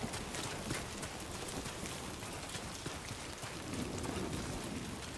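Steady rain falls in the video game Death Stranding 2, a dense, even hiss of drops that stays loud and unbroken throughout, with scattered sharper patters and no voices.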